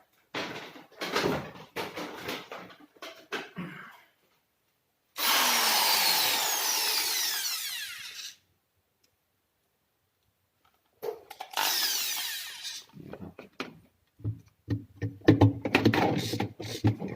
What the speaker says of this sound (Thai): สว่านนี่ยิงเลยนะ